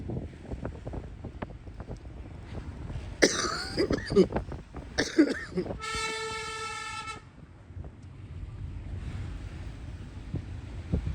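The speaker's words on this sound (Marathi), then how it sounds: "खोकला झाला." A few harsh coughs burst out close by in the hills at Nainital, followed by a loud horn-like toot, with wind rumbling against the microphone throughout.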